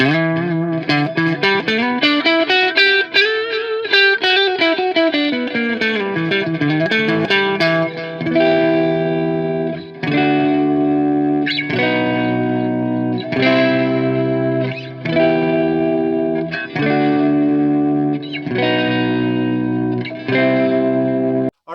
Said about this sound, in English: Here's what it sounds like with the compressor on.